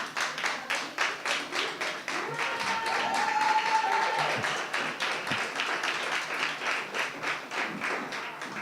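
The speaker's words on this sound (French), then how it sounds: "je pense que ça vaut la peine d'être applaudi" An audience applauds steadily at an adult-education reading event in Québec, rhythmic clapping sustained throughout at a moderate, even level.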